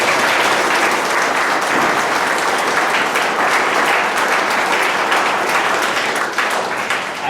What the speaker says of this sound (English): So if you could give those folks a round of applause.